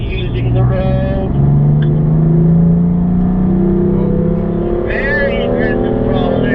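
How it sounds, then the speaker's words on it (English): Race car engine revving hard under aggressive throttle out of a second-gear corner, a loud sustained drone that climbs in pitch, with a person talking over it. "Very aggressive throttle there."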